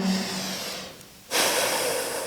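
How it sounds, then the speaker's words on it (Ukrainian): Slow breathing through the nose during a morning full-body exercise routine: a soft, steady airy hiss that drops away briefly, then returns as a fuller inhale, close and alone. "Дихаємо через ніс повільно."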